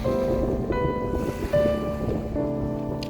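Waves wash and rumble against a pebble beach of round stones at Jeongdo-ri Gugyedeung, Wando, with a steady roar and some wind noise, with no voices present.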